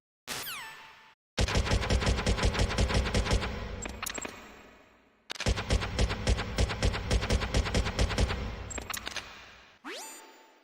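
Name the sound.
FAMAS bullpup assault rifle firing in Metal Gear Solid video game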